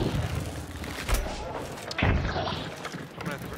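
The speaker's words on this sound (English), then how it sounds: "Shotguns." Shotgun blasts go off during a Hunt: Showdown match, a few heavy booms spaced irregularly over a few seconds, mixed with other game noise.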